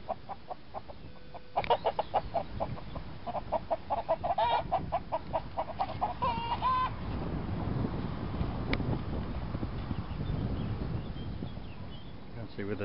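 Chickens with their chicks cluck and chirp outdoors on a hot summer day in a field, repeated rhythmic clucks and peeps fairly close, with insects buzzing and occasional voices.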